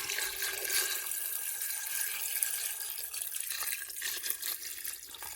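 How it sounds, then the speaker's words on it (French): Water pours steadily into a pot over chopped vegetables for an autumn velouté soup, a soft, continuous splashing rush with slight fluctuations throughout. "Et maintenant, je vais verser mes légumes. Et je couvre d'eau."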